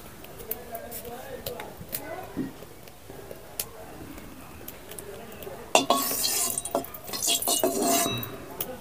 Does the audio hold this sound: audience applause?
no